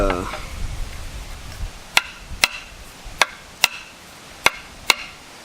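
A steel Keen Kutter axe head being driven down onto a hickory handle: six sharp, loud wooden knocks spaced roughly half a second apart, following a brief scrape and rustle at the start.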